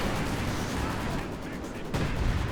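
An artillery barrage pounds away in a real-time strategy match, a steady dense roar of shelling and gunfire that runs the whole time and swells near the end.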